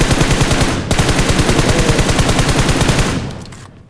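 Fast automatic gunfire in the battle royale game PUBG Mobile on the Livik map: a loud, evenly rhythmic burst of rapid shots, close up, briefly cut off, then continuing before fading out.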